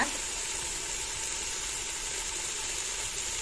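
Mutton lungs frying in a pan give a continuous bright sizzle and hiss, steady and close, with no pauses.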